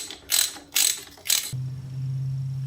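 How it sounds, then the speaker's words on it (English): A drain bolt being tightened back into a Kawasaki KX250F during an oil change, three quick ratcheting clicks close by, followed by a steady low hum. "And we'll put the bolt back in."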